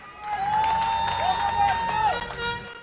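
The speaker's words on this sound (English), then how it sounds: "I want to give Jelani a round of applause" A street crowd at a live outdoor broadcast claps and cheers, with whoops and a sustained shout rising over the applause and some voices mixed in.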